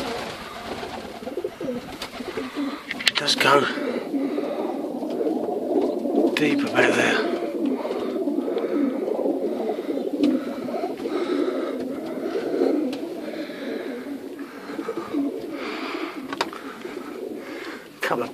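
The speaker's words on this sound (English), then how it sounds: "there's a lot of pigeons." Pigeons coo repeatedly inside a sea arch at Kingsgate, their low throaty calls echoing off the rock throughout, while a person talks nearby in the cave.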